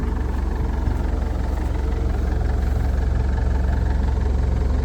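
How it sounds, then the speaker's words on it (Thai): A car engine idles with a steady low rumble and faint knocking, constant and fairly loud throughout with no talking. "เสียงเครื่องยนต์ก็ยังเงียบอยู่นะเงียบ"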